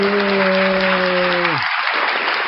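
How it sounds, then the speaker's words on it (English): Crowd applause for the performer Unclean Hands at a morning show, steady and fairly close, with a sustained electronic tone ringing over it before cutting out midway while the clapping carries on. "Round of applause for Unclean Hands."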